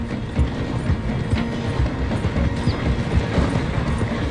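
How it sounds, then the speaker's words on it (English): A slowing train in the Red Dead Redemption 2 game rolls through a station with a steady, loud rumble and dense rhythmic clatter of wheels over rail joints, continuous throughout. "The train is slowing down to go through the station."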